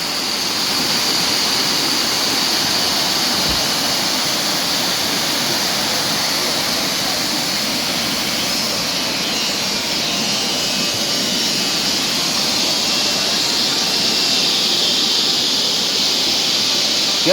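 Steady, dense rush of a waterfall at a Southern Thailand resort, loud and continuous throughout with no pauses, pouring water filling the whole scene without any talk.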